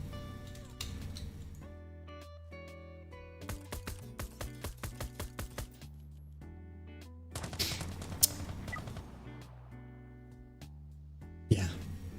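Rapid bursts of gunfire in a Starfield or Star Citizen firefight ring out loud and close, a quick run of about eleven shots around the middle with a few heavier blasts later, over game music and effects.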